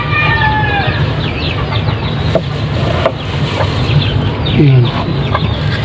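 Native and Texas chickens clucking in a coop during egg collection, close and loud, with repeated clucks and squawks over a busy background, while someone talks briefly.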